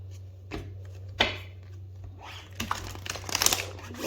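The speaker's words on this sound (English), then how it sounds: "Shuffle." Tarot cards being shuffled by hand, close-up soft crinkling, flicking and rustling bursts that grow busier toward the end, over a low steady hum.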